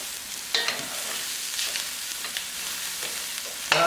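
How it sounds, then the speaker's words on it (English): Garlic cloves frying with lightly browned onions in a tagine, giving a steady close sizzle with a few sharper crackles and spatters. "Onions are slightly browned. I'm adding my garlic, 2 or 3 cloves of garlic"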